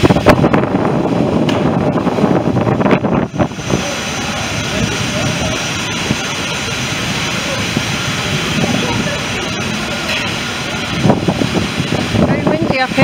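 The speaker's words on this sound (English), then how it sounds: "Very windy up here." Heavy wind buffets the microphone high up on the See Monster in a steady low roar, with gusts swelling and easing while people talk intermittently nearby.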